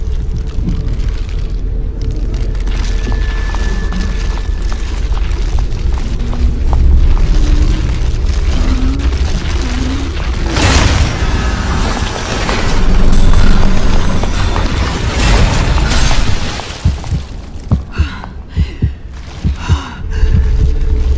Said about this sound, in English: Wait, it exploded.